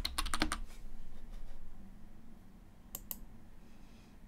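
Quick clatter of typing on a computer keyboard, with a fast cluster of keystrokes at the start, a few scattered taps, then two more clicks later, faint over a quiet room.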